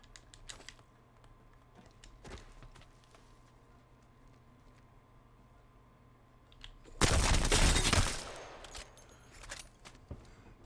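Alternator SMG from the Apex Legends video game: a dense burst of rapid automatic fire lasting about a second, loud against quieter scattered clicks and taps before and after.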